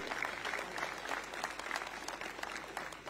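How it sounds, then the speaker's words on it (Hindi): An audience at a public gathering in Chhattisgarh claps in welcome for an arriving guest, a fairly soft but steady patter of many hands that carries on evenly throughout. "मैं चाहूंगा कि उनके स्वागत में आप सब लोग ताली बजाकर उनका स्वागत करेंगे।"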